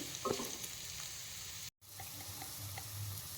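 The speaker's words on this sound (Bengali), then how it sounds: "এবার আমি দিয়ে দিলাম ক্যাপসিকামগুলো, এবার এগুলো সব ভালো করে একটু ভাজতে হবে।" Capsicum sizzles and fries in a pan for fried Maggi, a steady crackling hiss with light stirring scrapes, a brief gap partway through, no talk.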